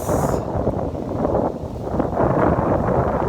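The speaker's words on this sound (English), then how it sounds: "It's a bit windy." Steady broadband wind rumble buffets the microphone throughout, a continuous low roar with gusty swells and no voices.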